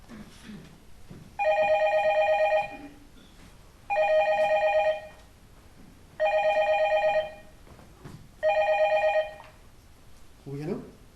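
A telephone bell rings four times in an indoor home setting, evenly spaced bright electronic bursts of about a second each, with quiet speech and movement between rings.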